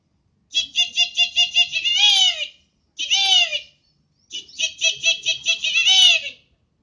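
A red-wattled lapwing gives sharp, shrill calls in three bursts, rapid repeated notes ending in a falling cry, loud and close against a quiet background.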